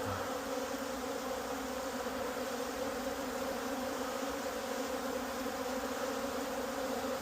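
Honeybees robbing at an apiary hive make a steady, dense buzzing drone, close and continuous but fairly quiet, with no voices.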